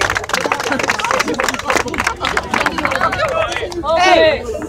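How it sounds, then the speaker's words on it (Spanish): Crowd at a Spanish-language rap battle final claps and cheers loudly, a dense burst of hand claps and shouts mixed with excited voices and whistles throughout. "¡Aplauso, gente!"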